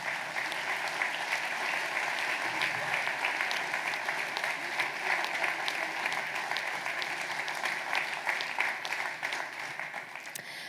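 Sustained audience applause at a New Year's wishes ceremony in Cusset, a dense even wash of many hands clapping, moderately loud and continuous for the whole stretch with faint voices mixed in.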